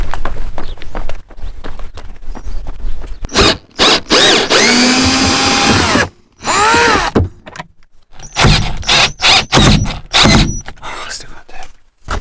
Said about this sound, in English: so I can use the drill set instead